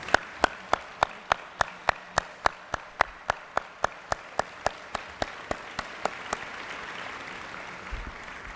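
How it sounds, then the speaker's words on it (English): Audience applause at a conference opening ceremony: a sharp, evenly spaced train of single claps close by, roughly twenty in a row, fading into a soft, diffuse patter of distant clapping. "Please, let's give them a round of applause."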